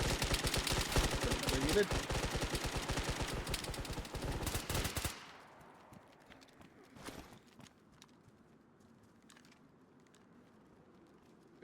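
Loud, rapid bursts of automatic gunfire from the video game DayZ crackle for about five seconds, then stop abruptly. Quieter scattered shots and faint sounds follow while players talk.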